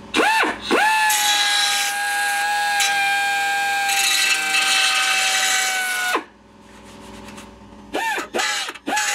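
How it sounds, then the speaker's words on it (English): A small electric belt sander spins up with a rising whine, then grinds steadily against a metal bracket for about five seconds from a 1968 Mustang during a Vintage Air install, winds down, and restarts in short bursts. "A little belt sander, that'll work even better"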